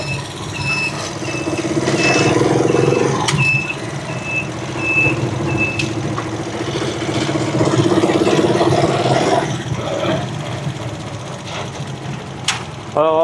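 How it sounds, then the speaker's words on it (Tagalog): An engine idles steadily after its carburetor has been cleaned, a continuous low rumble at an even level with faint high beeping and a squeak near the end. "parang tumining na yung makina natin, guys. Nung pinalinisan natin yung carburetor."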